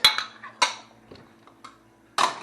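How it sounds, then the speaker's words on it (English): Dishes being put away: a few sharp, close clinks and clatters of tableware and cutlery, spaced irregularly with quiet gaps between. "even Tom Cruise's dishes have to go away"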